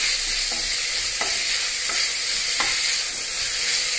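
Crushed garlic, ginger and green chilli frying in a pan, a loud constant sizzle broken by a few regular scrapes of a spoon being stirred, close with no talking.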